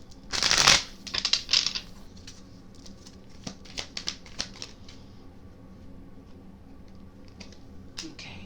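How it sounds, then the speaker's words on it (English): A deck of tarot cards is shuffled close up, with a loud burst of riffling early on and then a run of lighter, scattered card taps and flicks over a quiet background. "I'm going to shuffle the deck and try it again."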